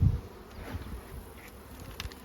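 Honeybees buzzing faintly around an opened five-frame beehive nuc, a soft, steady drone with a few brief louder passes nearby.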